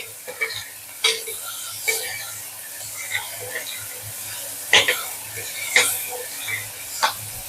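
Ginger garlic paste fries in a pan as it is stirred: a steady low sizzle close by, broken at irregular moments by sharp scrapes and clinks of the spoon against the pan.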